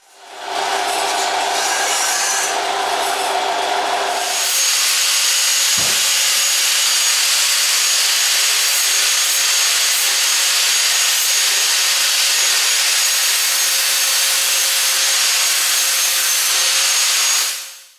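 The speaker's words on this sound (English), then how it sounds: "I'm going to chop that on a bandsaw as well" A bandsaw cutting a notch in wood gives a loud, close, continuous whine: a short rougher cut with a low drone at first, then a sharp knock and a long steady high-pitched run until the end.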